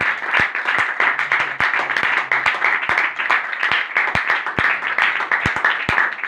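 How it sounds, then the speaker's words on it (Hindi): A church congregation claps in praise of Jesus, a steady rhythmic beat of many hands with sharp, regular strikes over a bright, sustained bed of clapping, close and loud. "यीशु मसीह के लिए एक जोरदार तालियां।"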